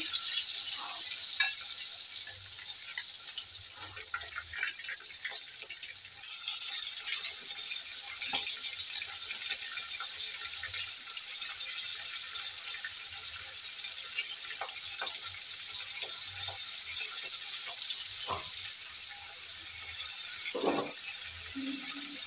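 Shrimp fry in hot oil in a pan, giving a steady, even sizzle that runs the whole time, with occasional soft clinks and stirring sounds.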